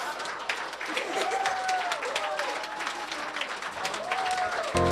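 Audience applause breaking out after a song at a small gathering, dense and steady clapping mixed with crowd noise, with a voice speaking faintly underneath.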